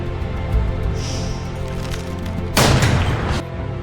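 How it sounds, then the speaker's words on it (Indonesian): A short, loud burst of rapid gunfire erupts near the end of a World War I war film scene, rising over a steady rumbling background. "Dan ia pun berhasil menembak orang itu."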